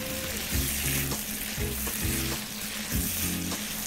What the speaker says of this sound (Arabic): وبنحمر الكرشه، نحط البصله بسرعه عشان كفايه طرطشه بقى